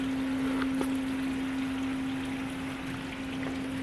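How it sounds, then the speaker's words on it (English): Backyard pool waterfalls at a Las Vegas house run in a steady, soft rush of falling water, with a constant low pump hum beneath it and no talk. "It turns on the waterfalls and everything."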